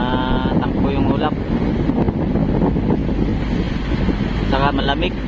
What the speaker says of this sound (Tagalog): ibig sabihin ay malakas talaga yung hangin dito